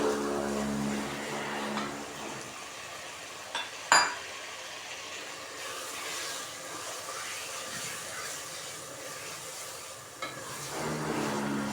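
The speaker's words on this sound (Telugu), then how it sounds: "ఇప్పుడు దీంట్లో కైమా యాడ్ చేస్తున్నాను." Minced meat (keema) fries and sizzles in a pan for a keema biryani, with a steady broadband crackle, a few sharp spoon-on-pan clinks and stirring scrapes, close and continuous with no talking.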